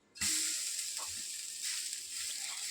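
Dosa batter roasting on a hot pan gives a steady, bright sizzle that starts abruptly and continues close and loud, with a few soft clinks.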